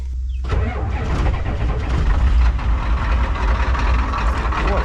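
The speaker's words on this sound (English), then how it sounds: "All right, watch this thing. It just fires up." A 1990 Ford 7.3 IDI diesel engine cranks briefly and then fires up, settling into a loud, steady close-up clatter that runs alone, with no talking over it.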